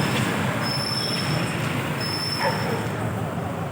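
A metro train at Road No. 5 station in Jubilee Hills, Hyderabad, gives a continuous broad rushing rumble with thin high wheel squeals running above it, steady and fairly close throughout.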